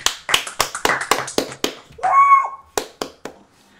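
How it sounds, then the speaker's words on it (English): About a dozen sharp, evenly spaced hand claps ring out close and loud in a casual voice chat, broken midway by a short, wavering tonal squeal before a few more claps trail off. "Everybody clap."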